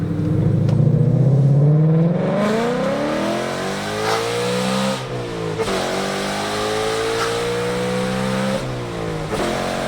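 A 2023 Mustang GT with 1 7/8-inch Kooks catless headers revs and accelerates loudly, its exhaust note rising and falling in pitch through several pulls, close and tinny-edged, with no talk.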